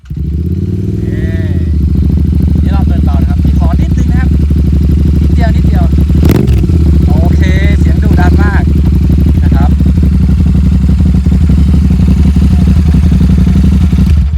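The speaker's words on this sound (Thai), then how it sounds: "เดี๋ยวเรามาฟังเสียงท่อก่อนนะพี่" A Royal Enfield 650 tracker-style motorcycle with its exhaust running loud and close, a steady throbbing idle that swells slightly, while people talk over it.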